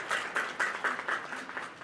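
Applause from a classroom audience at a teacher training session, a short burst of rhythmic hand clapping of moderate loudness, heard alone.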